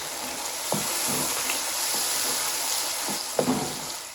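Chicken pieces sizzle and fry in a pot after coriander powder is added for white chicken pulao. There is a steady broadband hiss, with a few soft stirring scrapes and clinks scattered through it, and no voices.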